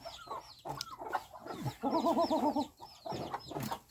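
Farm laying hens cluck close by in a rapid, rhythmic run of calls, with a few scattered squawks and chirps around them. No one speaks.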